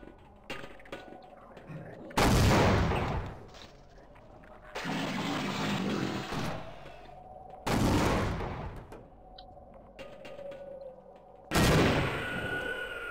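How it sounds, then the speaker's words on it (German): Four heavy grenade blasts in Half-Life Source, each a loud broadband boom with a rumbling tail, spaced a few seconds apart amid quieter game sounds. "Also ich würde behaupten, die Granaten haben gesessen"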